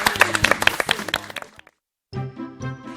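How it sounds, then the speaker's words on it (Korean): Audience applause during a Korean church Bible lecture on the Gospel of Luke, a short burst of close, crisp clapping that cuts off into brief silence, then a voice starts speaking. "박수 한번 할까?"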